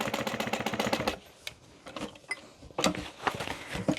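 A sewing machine back-stitching a handbag runs in rapid rhythmic mechanical bursts, stopping briefly for the reverse and then starting again with a steady clatter, close up and with no talk.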